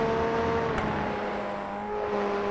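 A Formula Ford FF1600 race car in the iRacing sim at Laguna Seca gives a steady, buzzing engine drone that holds one pitch throughout, close and loud, with no talk.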